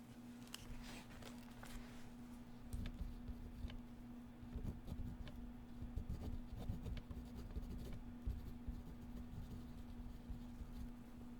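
Pen or pencil writing notes by hand on paper, a steady soft scratching and rubbing of strokes over a quiet background hum, with small pauses between bursts of writing.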